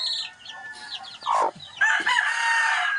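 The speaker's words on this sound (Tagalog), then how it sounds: "May sisiw na, maliit." Chickens cluck and call close by, with a newly hatched chick among them. A few short squawking notes are followed by a steadier, sustained clucking, and no one speaks.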